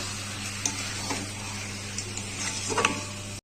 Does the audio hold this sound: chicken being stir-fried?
yes